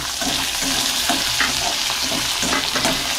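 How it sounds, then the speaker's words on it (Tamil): Ten cloves of garlic and a cup of sambar onions fry in a pan, giving a loud, close, continuous sizzle broken by intermittent stirring scrapes. "இதுவும் நல்லா வதங்கட்டும்"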